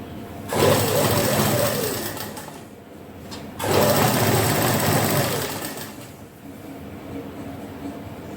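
A sewing machine stitches the cuff of a salwar with piping, running loud and close in two long bursts with a short pause between them, then slowing and stopping.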